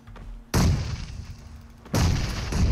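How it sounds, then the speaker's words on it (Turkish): Red zone bombardment in PUBG Mobile: two loud, close explosions hit about a second and a half apart, each a heavy booming blast that rumbles on rather than cutting off, with no talk over them. "Bomba geldi."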